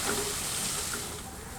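Onions and tomatoes cooking in a pan for a balti mushroom dish give off a steady, fairly loud broadband hiss that stays even throughout.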